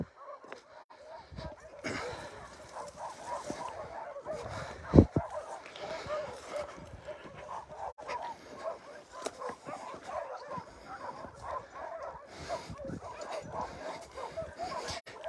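An abandoned puppy cries and whimpers outside an animal shelter, giving thin yips and soft whines at close range, often under a person's ongoing talk.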